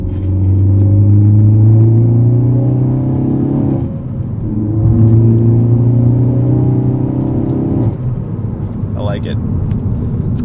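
A 2017 Ford Focus ST with a Borla cat-back exhaust heard from inside with windows up, a loud deep droning rumble that rises and dips in waves as the engine pulls and eases off.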